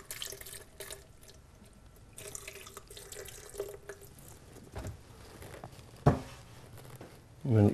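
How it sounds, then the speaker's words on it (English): Coconut water is poured into a raw Thai nut pasta mix with macadamias and cashews, a faint trickling stream with light clatter, ending in a louder splash near the close. "I'm going to grab a coconut, some coconut water to give it its water"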